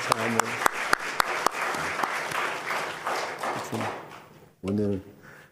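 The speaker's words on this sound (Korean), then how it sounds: "박수. 수고한 여성들 감사합니다." Congregation applause at a Korean church afternoon worship service, thanking the women who cooked, a few sharp claps at first giving way to a brief round, with someone speaking over and after it.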